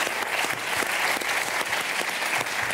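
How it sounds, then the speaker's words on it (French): A studio audience gives steady, even applause for a comedian being introduced on stage, a continuous wash of many hands clapping. "J'aimerais qu'on l'applaudisse."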